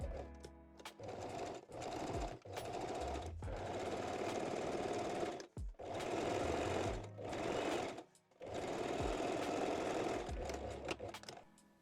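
A sewing machine runs in long, fast, steady bursts with short pauses between them, close and loud, stitching overlapped elastic edges on a fabric binding for underwear.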